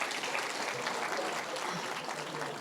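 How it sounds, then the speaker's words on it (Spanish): A church congregation claps together during a sermon, a dense, even round of applause from many hands, with faint voices woven through it. "Un aplauso."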